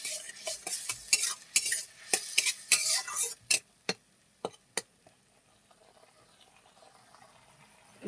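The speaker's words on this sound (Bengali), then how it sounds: "একটু নেড়ে দেবো।" Food stirred in a cooking pan with a utensil, making a run of quick scraping and clinking strokes that thin out into a few sharp taps, then a quiet sizzle, with no voices.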